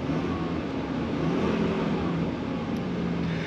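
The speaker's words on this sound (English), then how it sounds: "The Triton V10 fires right up." A Ford Triton V10 engine idles steadily in a 2015 Ace motorhome, giving a continuous low rumble with a broad, even hiss that holds at a constant level throughout, with no voices.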